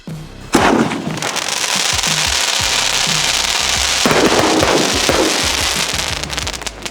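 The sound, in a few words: Rock and Roll sky shot firework exploding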